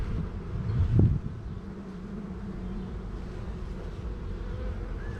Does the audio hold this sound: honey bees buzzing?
yes